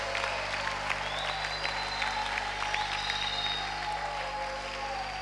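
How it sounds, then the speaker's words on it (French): A church congregation applauds at a morning intercession service, a steady dense patter of many hands clapping with cheering voices and faint calls mixed in. "acclamons pour le roi des rois"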